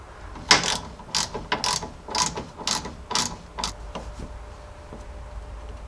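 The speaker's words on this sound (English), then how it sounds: "Fit it up into place and thread on the new slotted nut." A new slotted nut is threaded onto a Jeep Grand Cherokee ZJ tie rod with a ratchet, giving a run of about eight quick, evenly spaced clicking bursts that fade toward the end, close and fairly quiet.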